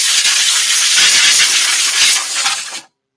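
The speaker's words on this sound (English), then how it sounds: "I like your air nozzle." An air nozzle gives a loud, steady, broadband hiss of rushing air for about three seconds, then cuts off abruptly into silence.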